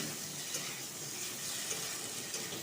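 Spices and yogurt stirred in a sizzling pan, a faint, steady hiss of frying with occasional soft scrapes from stirring, close and continuous, no voices.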